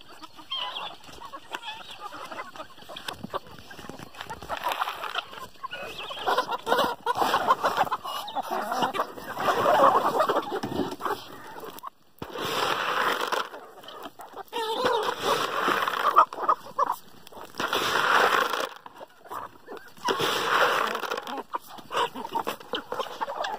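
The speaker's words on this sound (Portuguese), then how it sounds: "Tava dando milho às galinhas aqui agora." Farm chickens cluck busily after being fed corn, a lively chorus of clucks and calls close by in bursts over the cold morning yard, with occasional splashing.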